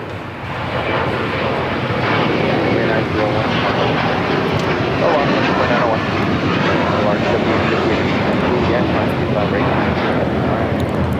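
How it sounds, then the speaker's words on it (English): An American Airlines Airbus A321 jet takes off at LAX, its engines building into a loud, sustained roar that holds close and steady throughout, with a voice talking over it. "2901 taking off to Charlotte on the A321"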